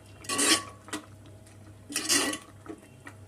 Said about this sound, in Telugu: కొద్దిగా కొత్తిమీర వేసుకున్నాక ఒకసారి కలుపుకుందాము.